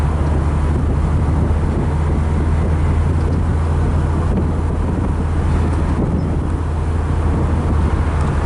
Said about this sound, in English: Really a nice driving car.